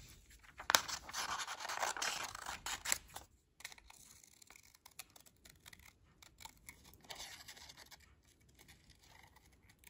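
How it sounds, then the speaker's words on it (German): Scissors snipping around a paper circle at a craft table, a run of crisp close cuts and rustles, busiest at the start, then sparser snips and paper handling, with no talk. "Nimm dann die Schere und schneide deinen Kreis aus."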